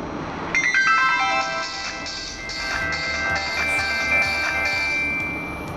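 A Gucci G9 mobile phone powers on and plays its startup melody, a bright chiming sequence of electronic tones rising in steps then ringing in a steady pulsing pattern, close and clear for several seconds.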